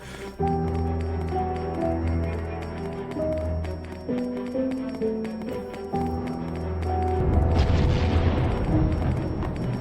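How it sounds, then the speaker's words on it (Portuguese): In the video game Oxygen: First Breath, a single deep explosion booms and rumbles partway through, cutting into steady melodic game music that plays throughout. "Explodiu o negócio."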